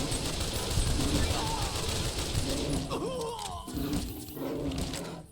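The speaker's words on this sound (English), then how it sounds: "We're pulling out the automatic rifle." Automatic rifle fire rattles in Fallout: New Vegas during a fight with Yaoguai, dense rapid shots mixed with creature roars and growls, loud and continuous, with someone talking over it.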